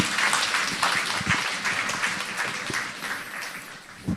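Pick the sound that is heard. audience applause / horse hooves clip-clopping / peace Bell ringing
audience applause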